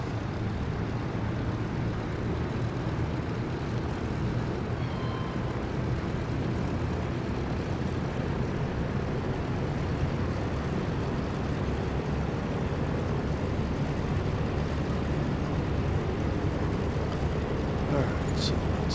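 Steady, loud droning rumble of a DC-3 propeller airliner taxiing in Microsoft Flight Simulator 2024, a dense unbroken engine roar that holds constant throughout with no distinct events.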